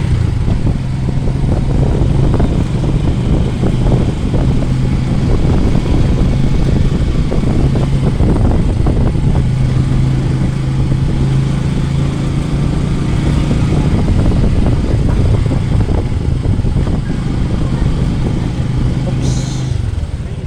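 Busy roadside traffic in the Philippines with a motorcycle passing close by on a tricycle ride, its engine droning steadily beneath broad road rumble and chatter.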